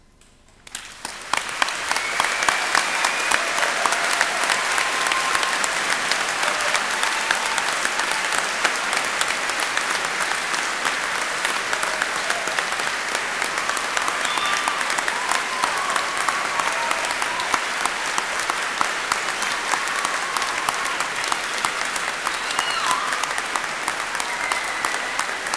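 An audience at a Cardiff University graduation ceremony gives a long, loud, sustained round of applause that fills the hall, with dense clapping that holds steady throughout after a brief quiet start.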